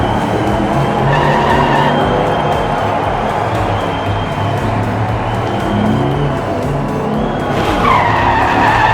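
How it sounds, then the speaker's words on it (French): A diecast toy Corvette drifts on a miniature race track in a competition, producing a continuous scraping, skidding rush that stays steady and fairly loud, with a brief rise near the end. "drift de la Corvette qui fait prendre les rails de Yado, c'est terminé pour lui"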